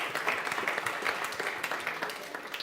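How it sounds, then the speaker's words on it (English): A live podcast crowd gives a short round of applause. The clapping is dense and even, at a moderate distance, with no clear speech over it. "let's clap for yourselves as well."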